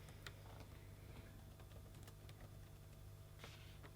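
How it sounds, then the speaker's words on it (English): Typing on a computer keyboard during a cake decoration and sugarcraft Cricut demo, with scattered soft, quiet key clicks in irregular bursts over a low background hum. "So I'm just typing that in."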